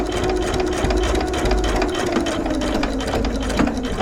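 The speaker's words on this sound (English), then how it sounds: "And you just sew right across." A sewing machine fitted with a walking foot stitches across a thick bag seam, its rapid needle clatter running steadily and close throughout with a constant motor hum.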